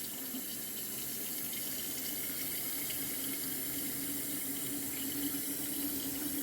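Tap water pouring steadily into a container filled with sugar, lemons and chocolate mint, a continuous close rush and splash with no break.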